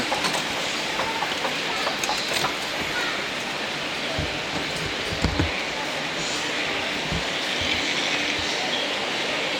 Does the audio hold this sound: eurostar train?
yes